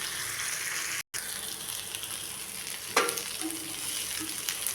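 Rock fish fries in hot oil with garlic, a steady crackling sizzle throughout with a sharp burst of spattering midway as it is stirred or turned.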